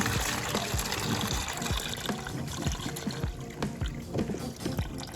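Coolant pouring out of a disconnected hose on a 2007 Suzuki GSXR 600 motorcycle, a steady gushing trickle splashing into a catch pan, continuous and close, no talking.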